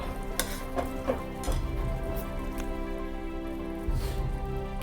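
Bread slices fry in a mix of ghee and oil for shahi tukda, a patchy bubbling sizzle with occasional crackles and soft utensil knocks, close by and without speech.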